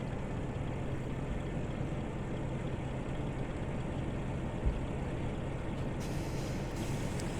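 A semi-truck in Farming Simulator 17 drives along with a steady, droning diesel rumble that holds evenly throughout, close and continuous with no talk.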